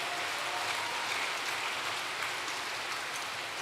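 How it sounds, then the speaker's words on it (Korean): Audience applause at a Korean religious gathering, a steady dense wash of clapping from a large hall crowd, sustained and even throughout with no speech over it. "큰 감사와 따뜻한 격려의 박수를 보내주시기 바랍니다"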